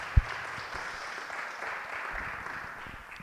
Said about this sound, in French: Dany Lang, oui, on peut applaudir